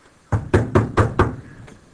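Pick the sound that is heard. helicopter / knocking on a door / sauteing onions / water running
knocking on a door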